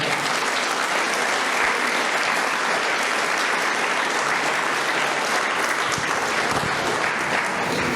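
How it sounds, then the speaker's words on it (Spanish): Sustained applause from a church congregation at a sixtieth-anniversary worship service, dense steady clapping filling the room for the full length without any spoken voice on top. "Den un aplauso, Señor."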